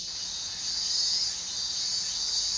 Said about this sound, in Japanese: もうそろそろセミ終了で。 うるさい？